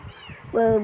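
Kittens meow in the background, with one clear, louder cry in the second half that rises over low talk and murmuring.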